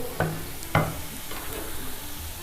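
Finely chopped medium onion stirred into keema frying in a pan, two scraping stir strokes over a soft continuous sizzle.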